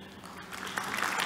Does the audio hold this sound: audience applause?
yes